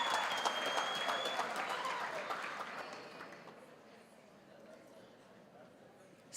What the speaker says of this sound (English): Can you applaud her for that?